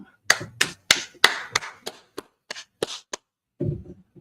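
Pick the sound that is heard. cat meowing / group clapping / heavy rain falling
group clapping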